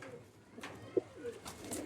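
A single soft coo from a pigeon, from a keeper's mixed stock of Oman and Pakistani line pigeons. It is brief and fairly close within quiet surroundings.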